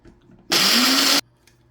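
A burst of whirring grinding as dried cayenne peppers are blitzed into powder in a blender, loud and steady for under a second before cutting off abruptly, with near silence on either side.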